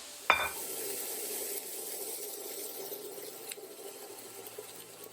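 A sharp clatter, then a soft, steady sizzle of seasoned steak in a pan that fades slightly over several seconds, fairly quiet with no voices.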